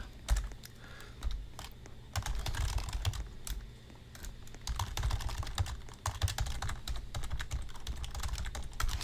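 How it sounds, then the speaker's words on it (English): Fast, uneven bursts of clicking keystrokes come from a computer keyboard, close and fairly loud, with brief pauses between runs of typing and no talking. "I really am typing in this position"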